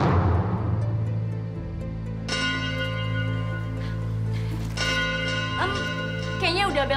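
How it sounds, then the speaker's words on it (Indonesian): A bell rings out with sustained metallic tones, signalling the start of class at a school, struck again partway through and left to ring on over a low steady hum, fairly loud and with no talk. "Kayaknya udah bel masuk deh."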